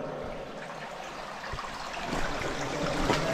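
An underground river flows through a cave, a soft, steady rushing and trickling that stays faint and distant and swells slightly toward the end.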